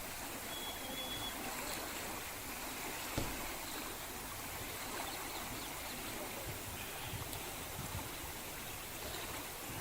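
The flooded Parvati river at Bara rushes fast in a steady, broadband roar of churning water that holds constant from start to finish, with no voices.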